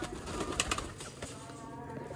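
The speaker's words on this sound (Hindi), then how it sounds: "ये प्योर तरीन हालत के मिस्से जालदार कबूतर हैं।" Soft, low cooing from Misse Jaldar pigeons in a loft, faint and continuous under a steady background hiss, with a few brief sharper rustles or wing sounds mixed in.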